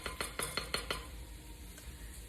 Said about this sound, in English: so we get all the icing out of the bowl and into the pan